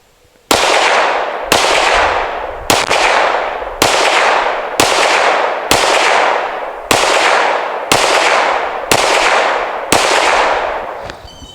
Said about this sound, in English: I'll shoot a little bit on the fast side